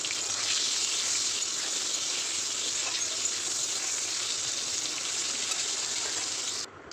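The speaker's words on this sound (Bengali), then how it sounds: "তো এবার লবণ হলুদ দিয়ে ভেজে নেব পটলগুলো।" Pointed gourd frying with salt and turmeric in a pan, a steady, even sizzle held throughout without talk, cut off abruptly near the end.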